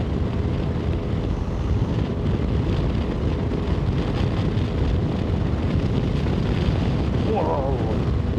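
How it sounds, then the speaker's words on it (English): Strong wind buffets a microphone outdoors in a steady, loud, rumbling roar throughout, with a voice faintly heard under it. "So this wind's blowing me all over the place."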